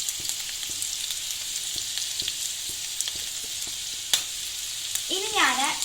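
Capsicum, carrot and onion sizzle in a pan, a steady bright frying hiss punctuated by scattered crackles and pops, with a stir scrape near the end.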